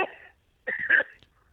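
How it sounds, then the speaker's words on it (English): Someone coughs, a short hoarse burst followed after a pause by a rougher double cough with throat clearing, close and alone. "Please don't cough into your hand"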